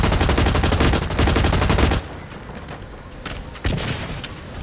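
Gunfire in the shooter game Blacklight: Retribution: a dense, rapid automatic burst for about two seconds, then scattered single shots and a louder blast, all close and loud with no talking.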